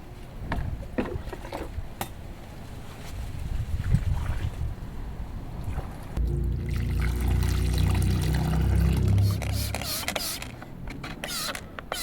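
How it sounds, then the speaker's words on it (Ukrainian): Water poured over cabbage plants in a vegetable garden, a steady splashing flow that swells loud near the midpoint and runs on continuously over outdoor background noise. "Тому треба проливати, щоб до коріння ця вода дійшла."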